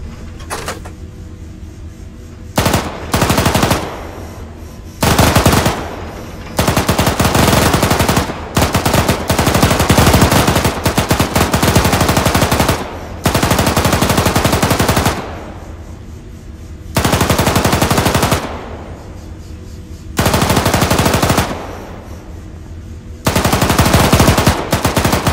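Mounted machine gun in the Arma combat game fires in long sustained bursts, loud and close, with brief gaps between roughly ten separate volleys.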